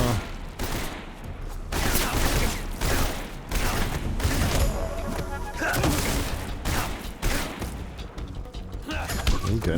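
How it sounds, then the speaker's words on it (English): Gunfire in the stealth video game Metal Gear Solid Delta: Snake Eater, with bursts of rapid shots and heavy impacts throughout, mixed with game music and effects while a voice talks underneath. "These gunshots sound cool."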